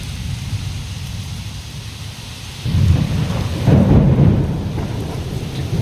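Heavy village rain pours steadily while deep rumbles of thunder swell midway, loud and close, with no voices.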